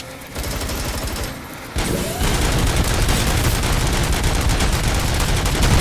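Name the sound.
gunfire in the video game RoboCop: Rogue City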